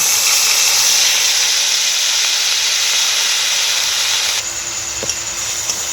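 Ground onion paste hits hot oil with bay leaf, cloves and cardamom, giving a loud, steady, close sizzling hiss that holds evenly, then drops slightly and continues with a few small clinks near the end.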